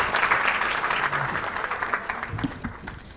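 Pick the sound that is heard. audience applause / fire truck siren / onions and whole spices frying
audience applause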